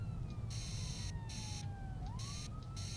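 Police siren in the video game City Eye, a wailing electronic tone sweeping down and back up, with bursts of pulsing high beeps layered on top, steady and fairly close over a low rumble.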